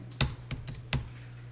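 Four or five sharp, faint keystrokes tapped on a computer keyboard while entering accounting data, spaced unevenly with quiet gaps and a low steady hum underneath.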